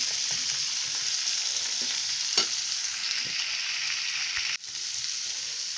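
Mixed vegetables of peas, green beans, carrots and corn being stirred in a hot pan, a constant close sizzle with occasional light scrapes and one brief dip in the hiss, no speech.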